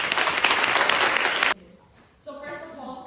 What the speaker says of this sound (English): Let's give a round of applause to Natalia.